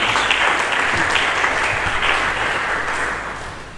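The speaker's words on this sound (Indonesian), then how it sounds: "Mari kita berikan tepuk tangan yang meriah." A church congregation at a Sunday sermon service bursts into loud, sustained applause, a dense wash of clapping that holds steady for several seconds before easing off slightly at the end.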